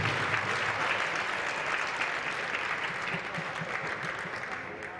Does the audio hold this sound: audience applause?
yes